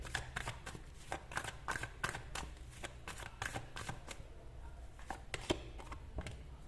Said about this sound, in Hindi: सारे कार्ड्स निकाल लेते हैं पहले।